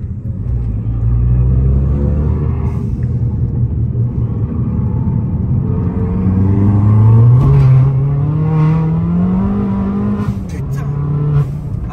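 Stage 3 tuned Abarth on semi-slick tyres accelerating hard on a track, its engine note climbing steadily in pitch as it revs, loud and continuous with a deep rumble, while voices speak over it.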